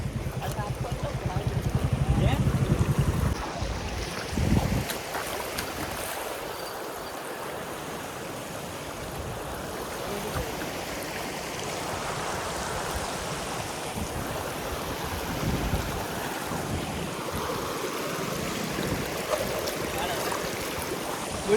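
Water of the Panam river flows with a steady, soft wash, after a louder burst of noise at the start. Faint voices are heard now and then.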